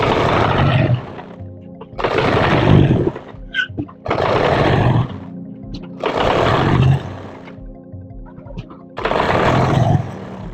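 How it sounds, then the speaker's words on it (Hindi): A sewing machine stitching down a trouser pocket, running in five separate bursts of steady motor whirring, each about a second long, with quiet gaps between them. "अब हमें यहाँ से नीचे तक सिलाई लगानी है जिससे ये पक्की हो जाए और टूटे ना सिलाई"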